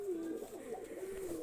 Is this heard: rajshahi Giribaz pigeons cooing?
yes